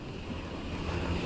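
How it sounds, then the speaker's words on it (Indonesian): Ocean surf rolls steadily at Ngalur beach in Tulungagung, a continuous broadband wash mixed with wind buffeting the microphone, with no voices. "Ini sebelah itu sudah pantai sebetulnya."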